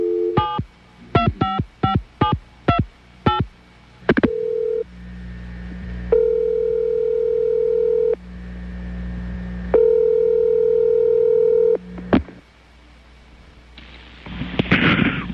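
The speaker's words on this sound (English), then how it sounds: "And so let's call Ed Carter's Sports Hotline" An old-style landline call to a sports hotline: a quick run of sharp dialing tones, then several long, steady ringing tones separated by pauses, ending in a brief noisy burst.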